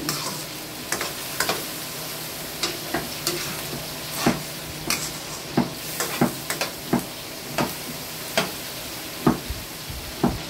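Spaghetti sauce with carrots being stirred in a pan: a steady low sizzle under repeated scraping strokes of the spoon, coming every half second or so, close up and fairly quiet, with no talking.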